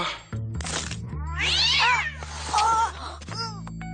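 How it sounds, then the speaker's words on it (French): A cat meows and caterwauls in a hallway, several drawn-out, rising and falling cries close by over a steady low hum, with a few soft thumps between them. "Je crois qu'il y a du bruit dans le couloir. Ça doit être juste le chat."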